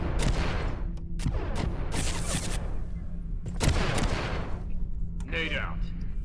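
Gunfire in the video game Abiotic Factor, dense rapid bursts of shots and booms crackling on and off throughout, with a player's voice talking over the shooting.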